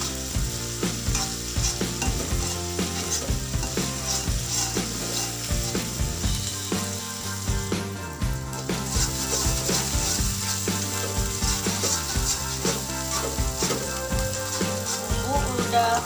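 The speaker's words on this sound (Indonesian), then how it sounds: "Kita tumis sampai matang." Seasoning paste for crispy tempe stir-fried in a pan, a steady close sizzle with repeated scraping strokes running throughout, under a constant background of music.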